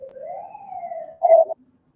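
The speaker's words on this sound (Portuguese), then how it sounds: "Teve um barulho de ambulância aqui, né?" An ambulance siren wails outside, a single rising and falling tone heard faint and distant before a brief louder burst cuts off into silence.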